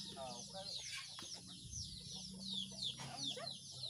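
Six backyard chickens cluck and squawk in short, scattered calls at a fairly low level in the early morning, with faint voices in the background.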